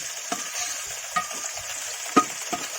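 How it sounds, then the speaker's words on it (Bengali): Chopped onions frying in a pan and being stirred, a continuous low sizzle punctuated by a few sharp spoon scrapes and knocks, close and fairly quiet. "পেঁয়াজটা ভালো করে ভাজে নিবে"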